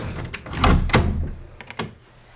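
Closet door in an art studio swinging open, with close wooden knocks and a rumbling thud followed by a few lighter clicks and taps.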